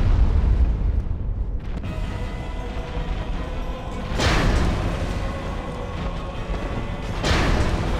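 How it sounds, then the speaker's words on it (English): Bombs thrown at a large demon in Dark Souls Remastered explode with deep rumbling booms. Two heavy blasts hit about three seconds apart over a continuous low roar, loud and close, with no talking. "So these bombs we grab, I'm gonna chuck them at him"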